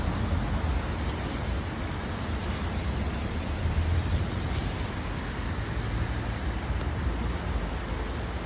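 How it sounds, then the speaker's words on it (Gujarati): Light rain falls steadily outside Sasan in Gir, a fine continuous hiss with no distinct drops standing out and nobody talking. "વરસાદ ચાલુ છે ઝીણો ઝીણો"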